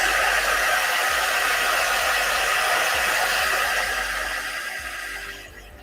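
Heat dryer blowing for a quick dry on a craft transfer, a loud continuous hiss and whoosh held steady before fading slightly at the end.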